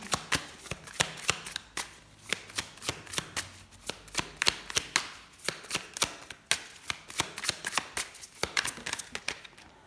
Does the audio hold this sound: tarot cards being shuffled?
yes